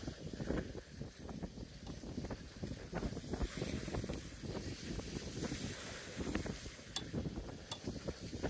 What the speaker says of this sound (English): This easterly wind doesn't do any good either, to be honest.